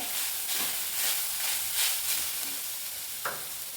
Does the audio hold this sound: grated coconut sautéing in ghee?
yes